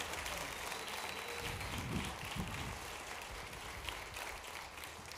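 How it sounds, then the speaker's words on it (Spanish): Faint, steady applause from a studio audience on a Costa Rican talk show, a soft continuous patter of clapping with no voices. "Un aplauso, Hernán Medford, en la casa."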